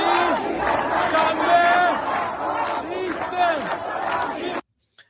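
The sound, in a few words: protest crowd chanting in Tehran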